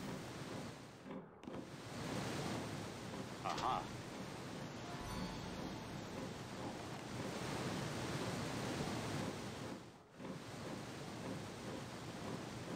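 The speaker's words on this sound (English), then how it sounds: "Ah, rushing water." Rushing water roars in the Shambala Sanctuary level of the video game Indiana Jones and the Infernal Machine, a steady broadband wash that sounds like surf and goes on with little change.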